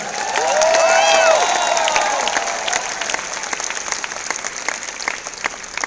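Audience at a business event bursts into loud, dense applause that peaks early and tapers off, with a few cheers and a voice briefly heard over it.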